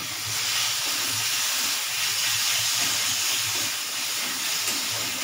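Ginger paste, garlic and tomato with salt and turmeric fry together in a pan for a hilsa and rui fish curry, giving a steady, continuous close sizzle that holds evenly throughout.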